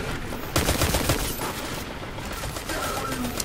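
Destiny 2 weapon gunfire, with loud repeated shots and rumbling blasts crowding the whole moment, and a voice partly buried in the mix.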